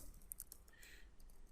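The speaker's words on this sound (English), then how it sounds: "and I'm just typing" Fingers tap on a computer keyboard in a quick, faint run of light clicks, heard alone without talking.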